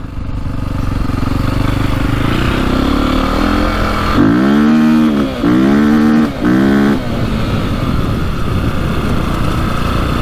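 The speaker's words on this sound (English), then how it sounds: "You can hear it hitting the rev limiter at the right time, unlike last time." A KTM 450 dirt bike engine idling loudly up close, then blipped hard three times in quick succession, each rev bouncing off the rev limiter before dropping back to a steady idle.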